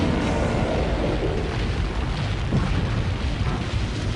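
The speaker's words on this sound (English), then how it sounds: "But this cartoon explosion" A cartoon explosion from the movie Terror Toons: a dense, roaring rumble that stays loud and broad throughout, like a sustained blast with crackling debris noise.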